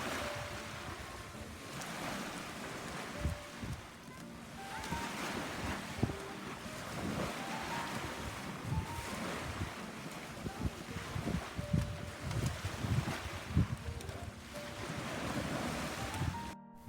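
Calm seaside wind and surf wash steadily and alone at a fish-drying spot on a provincial shore, with gusts of wind rumble on the microphone and faint distant sounds running underneath throughout.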